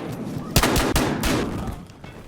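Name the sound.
shotgun gunfire in the video game Battlefield Hardline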